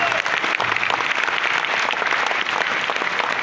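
Audience at a live concert applauding the musicians, a dense and steady burst of clapping from a crowd throughout.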